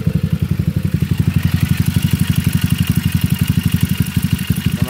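A motorcycle engine idles steadily nearby with a fast, even pulsing beat, and a thin scraping rattle from a worn starter bendix runs over the low throb throughout.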